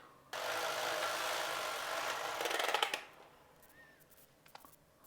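Passap Duomatic 80 knitting machine carriage sliding across the needle bed in one pass, a steady mechanical rush for about three seconds ending in a few rattling clicks, followed by quieter handling noises.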